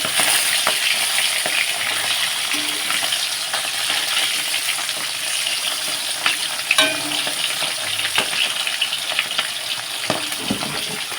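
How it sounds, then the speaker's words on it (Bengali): Continuous crackling sizzle of fish frying in hot oil, close up, with occasional soft clinks and pops; no talking. "এদিকে মাছগুলো কিন্তু লাল লাল ভাজা হয়ে যাচ্ছে"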